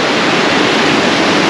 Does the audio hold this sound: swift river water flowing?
yes